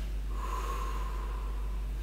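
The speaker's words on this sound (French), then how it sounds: "On allonge par la bouche." A long, steady breath is pushed out through the mouth during a relaxation breathing exercise, a close, even airy exhale lasting about a second and a half.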